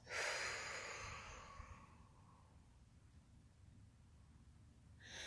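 A slow, audible exhale in a quiet room during a breathing exercise, breathy and strongest at the start, then tapering into faint stillness.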